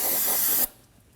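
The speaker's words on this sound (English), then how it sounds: "Now we're going to use some brake parts cleaner and just spray around this area to get rid of all the fluid." Aerosol brake parts cleaner sprays in a loud, close hiss around a brake hose fitting on a 2017-2024 Nissan Armada, lasting about half a second before cutting off abruptly into quiet.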